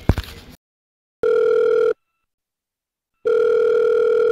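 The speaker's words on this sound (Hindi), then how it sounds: "अली भी फोन नहीं उठा रहा।" A telephone ringback tone sounds twice in long, evenly spaced rings with silence between, after a short rustle at the start; nobody picks up.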